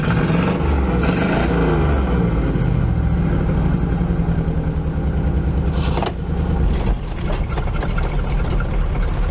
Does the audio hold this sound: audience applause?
no